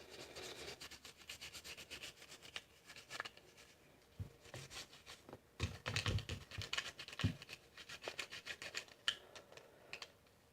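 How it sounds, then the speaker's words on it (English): A brush scrubs parts of a Smith & Wesson M&P22 Compact pistol during cleaning, producing faint, close scratchy bristle rubbing in irregular bursts, with brief pauses and a few slightly louder scrapes. "Just take your brush, just kind of scrub it a little bit."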